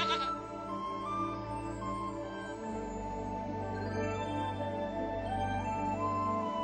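A goat bleats repeatedly with a nasal, wavering cry, close and fairly loud, with no voices over it.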